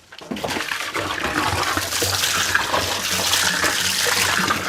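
Water pours steadily into a container to top up a neem seed pest-control solution, a continuous gushing, splashing rush that starts abruptly and keeps going close by, without speech.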